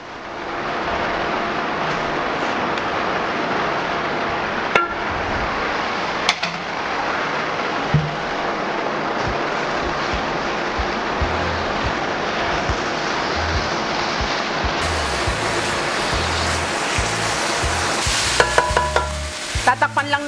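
Longganisa sausage sizzling in a pan of sautéed garlic and onion mixture, a steady close frying hiss with occasional clinks and stirring scrapes of a utensil, growing busier near the end.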